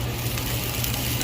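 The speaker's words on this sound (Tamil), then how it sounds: "பெருஞ்சீரகம், கொஞ்சம் வெந்தயம் போட்டு நன்றாக தாளிக்க வேண்டும்." Mustard, fennel and fenugreek seeds sizzle steadily in hot oil for tempering, a dense, continuous close crackle with no talk.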